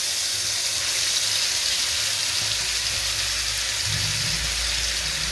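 Ground onion paste sizzles and hisses steadily in sesame oil in a pan, a loud, continuous frying sound with some low bubbling toward the end.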